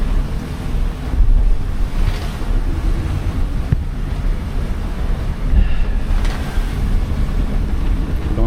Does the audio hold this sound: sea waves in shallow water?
yes